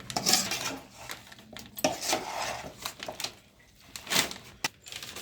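Mango pickle stirred in a bowl, with a spoon clinking and scraping against the dish in irregular bursts of metallic taps and rattles, close and moderately loud, with short pauses between strokes.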